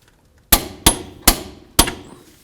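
Four sharp metallic hammer strikes peen an axle nut into its slot on a 1998-2002 Honda Accord, close and clear with short ringing decays, unevenly spaced over about a second and a half.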